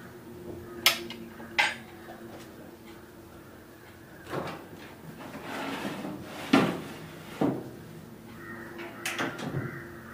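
Butter cookies going into a small home oven in a kitchen, a few sharp clacks and knocks of the tray and oven door at intervals, with soft rustling and handling between them.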